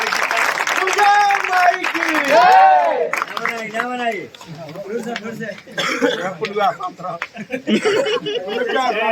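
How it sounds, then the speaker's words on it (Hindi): A crowd applauds to welcome guests at a Sri Ram temple gathering by a Durga pandal in Mau, Uttar Pradesh, with scattered clapping and clatter running under and after someone speaking into a loud microphone. "चलिए एक बार जोरदार ताली बजा के स्वागत करिए।"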